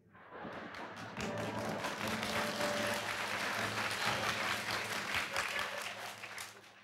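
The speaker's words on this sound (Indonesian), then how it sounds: "Gak ada yang suruh tepuk tangan loh." Congregation applauding during a church sermon at GSJS Church, a dense, even wash of many hands clapping that swells quickly and holds steady for several seconds, fairly close, with little talk.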